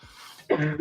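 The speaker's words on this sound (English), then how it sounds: "I apologize if you hear my family in the background still coughing." Family member coughing in the background, a short burst of cough and throat-clearing sound that rises suddenly after a quiet stretch of low room noise.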